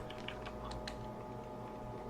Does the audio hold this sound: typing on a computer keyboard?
yes